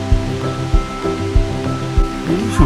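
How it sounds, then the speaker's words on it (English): A waterfall at Krka National Park in Croatia rushes as a loud, steady broadband wash, with rhythmic low thumps and tonal hum layered over the continuous roar. "That's the real waterfall."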